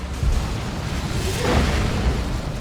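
Grenade launcher barrage in the Dawn of War 2 strategy game, a muffled rumbling series of low booms rolling together over a couple of seconds, with no talk over it.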